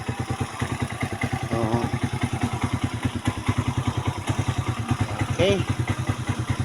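Tricycle motorcycle engine idling close by, a steady rapid putter that runs throughout, with someone speaking briefly over it.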